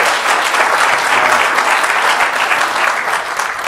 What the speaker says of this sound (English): Give a big round of applause for that big round of courage